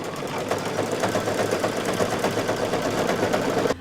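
An embroidery machine stitches a fabric tack-down over stabilizer, a loud, rapid, continuous mechanical rattle of needle strokes that runs evenly and then cuts off abruptly at the end.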